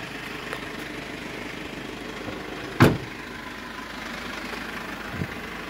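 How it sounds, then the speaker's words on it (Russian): A 2015 Mercedes Sprinter 316 van's engine idles in a steady, even low drone, broken once by a brief loud knock or thud near the middle; no one speaks. "Пойдем послушаем работу двигателя."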